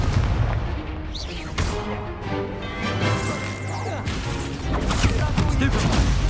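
A Confringo fire spell blasts in Hogwarts Legacy combat, loud fiery bursts and crashing impacts layered over a busy battle mix with swooshing effects throughout.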